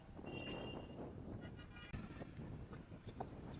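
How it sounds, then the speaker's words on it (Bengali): Strong wind gusting at the beach in Cox's Bazar during rain, a low, rumbling buffeting roar pressing on the microphone, fairly faint overall with a sharp knock partway through. "বাতাসের নমুনা দেখাই।"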